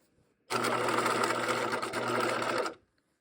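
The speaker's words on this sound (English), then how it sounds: "Since we're sewing in kind of a curved area, it can be tricky" A sewing machine stitches a curved seam on a pair of shorts, one rapid continuous whirring run of about two seconds, close and loud, starting and stopping abruptly.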